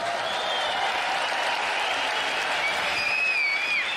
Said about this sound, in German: nochmal Applaus für die Singakademie